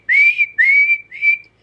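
A voice imitates a small, shrill eagle-bone whistle of the kind blown by dancers, giving three quick rising piercing tones in a row with short gaps between them, clear and alone.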